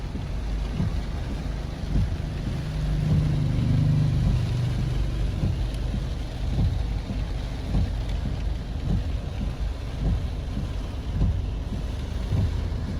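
Rain falls steadily at a beach resort in Surigao City, Philippines, a continuous wash of pattering with a low rumble underneath and occasional heavier splashes.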